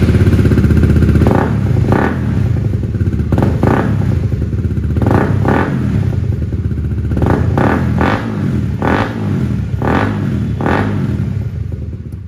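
A motorcycle engine fitted with an AK R1 exhaust, on a Yamaha R15 V3 or Honda CBR150R, fires up and is blipped repeatedly, loud close revs rising and falling in short bursts over a rough idle.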